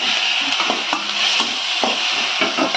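A spatula stirs onion and tomato in a pan for vengaya thakali chutney, with repeated scraping strokes against the pan over a steady close sizzle and occasional utensil clinks; nobody talks.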